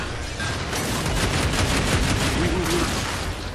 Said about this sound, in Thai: ปืนของผมนะฮะมีชื่อว่าบัสร็อกนะฮะจะคล้ายๆสไนเปอร์แต่ไม่ใช่นะฮะ